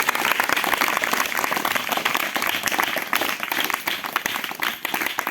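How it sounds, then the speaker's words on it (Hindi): A church congregation claps loudly in praise during a Hindi Christian service. The applause is dense and continuous, and a few voices are faintly mixed in. "जोर से ताली बजाओ, प्रभु को महिमा दो।"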